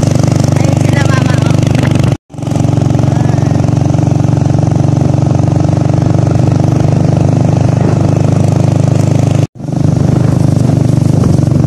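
A motorcycle carrying two riders drones loudly along a rough, steep road, its engine a continuous close rumble with two brief dropouts, while a voice talks over it.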